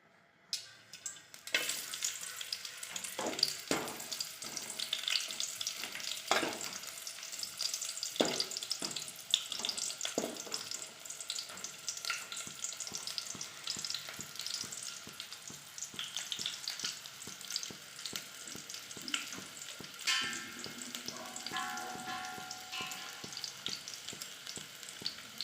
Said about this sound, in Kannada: ಇನ್ನೊಂದು ಕಡೆ ಒಂದು ಪಾತ್ರೆಯಲ್ಲಿ ಎಣ್ಣೆ ಬಿಟ್ಟು ಅದಕ್ಕೆ ಈರುಳ್ಳಿ ಹಾಕಬೇಕು ಫಸ್ಟು.